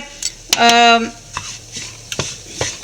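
Coriander and chili powder added to a pan for prawn theyyal, with a brief sizzle and scraping stirs, a couple of sharp utensil clinks, and a short tonal squeak near the start.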